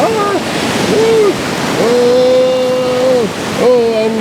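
Big ocean waves surge up a narrow rocky channel in a steady, close roar of rushing surf, with a man's loud, drawn-out exclamations over it.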